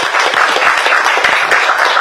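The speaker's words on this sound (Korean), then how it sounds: "수고했다는 의미로 좀 박수 치면서 시작하도록 하겠습니다." Lawmakers at a party floor-leadership strategy meeting clap together in a brief burst of applause, a close, brisk patter of many hands filling the room without any speech.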